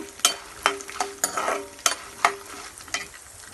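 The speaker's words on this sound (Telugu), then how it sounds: "మినపప్పు ఆవాలు కూడా వేసేసుకుందాము వేసేసుకొని బాగా వేపేసుకుందాము" Urad dal and mustard seeds fry in hot oil, crackling and sizzling while a spoon strikes the pan in sharp, irregular knocks about every half second, close and loud.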